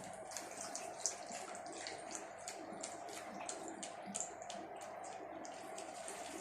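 Faint, steady trickle of distilled water being poured into the small tank of a charm collections beauty machine, with soft splashing and light drips throughout, no talking.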